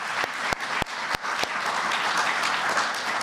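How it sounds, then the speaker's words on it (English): Audience applause for a Voter Hall of Fame inductee at an induction ceremony in Lebanon County, Pennsylvania, with a steady roomful of clapping and a few louder nearby claps near the start. "Actually, each one of these deserves an individual applause."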